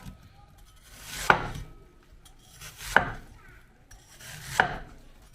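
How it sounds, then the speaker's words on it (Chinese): A knife chops a peeled snow pear into small pieces on a cutting board, giving three separate firm, close thuds about a second and a half apart, each with a brief slicing swell before it, in a quiet room. "改刀切成小块"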